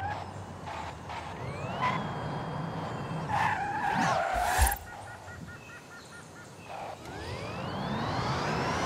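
A Ford Mustang Mach-E electric car drives in Forza Horizon 5, with a whining motor rising and falling, tyres skidding and squealing and a thump midway, fairly loud and continuous.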